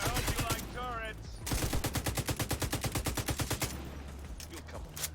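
Rapid automatic gunfire in The Division 2 video game, a fast regular burst of shots after a short spoken line, loud and close, trailing off into quieter game ambience.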